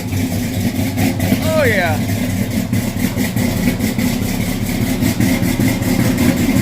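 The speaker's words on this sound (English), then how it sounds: "Oh, I love the old carbureted cars." An old carbureted Ford Mustang engine idles with a rough, steady low rumble close by, its pitch rising briefly in a quick rev; someone speaks over it.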